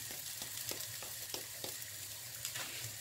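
Rice toasting in a frying pan for yellow rice with pork: a soft, even sizzle runs throughout, broken by quiet stirring taps and scrapes, fairly faint with no voices.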